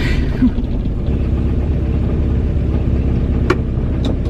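A car engine runs after distributor and valve adjustment, giving a loud, steady, close-up rumbling idle with an even low throb and a couple of faint clicks toward the end.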